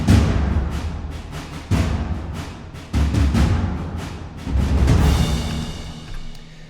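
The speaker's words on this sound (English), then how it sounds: "Percussion-wise, things get pretty basic for this moment." MIDI orchestral percussion plays by itself, with booming low hits on accents every second or so, each decaying under a wash of cymbal-like noise.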